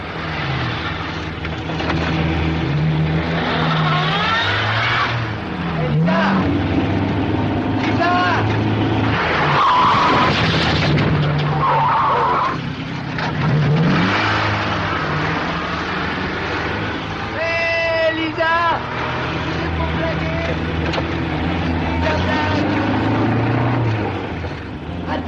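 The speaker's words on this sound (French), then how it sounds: "Trois fois, avec une rage déchaînée, Lisa a fait rouler sa voiture sur le corps de Bob." In a radio drama a car revs and skids with squealing tires, loud and close as it runs back and forth over a man's body, with voices crying out over the engine.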